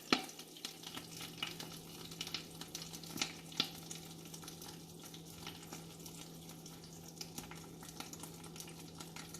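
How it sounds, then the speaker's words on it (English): Fish wrapped in banana leaves frying in hot oil in a covered pan, a soft, steady sizzle and crackle with a few sharper pops early on, fairly quiet and without talk. "Now the oil is hot now. I am going to add the fish with banana leaves"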